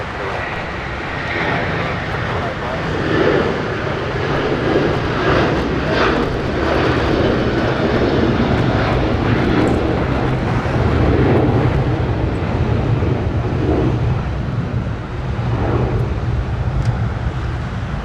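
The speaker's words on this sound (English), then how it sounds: "Look at the wing fluff, too, as our United 757 got airborne." A United Boeing 757 takes off from Los Angeles International Airport, its engines roaring steadily and loudly at close range for the whole stretch, with no voices over the noise.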